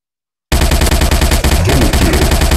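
Sustained rapid machine gun fire from the Zombie Warfare video game, loud and continuous with dense overlapping bursts, starting abruptly after a brief silence and running without pause.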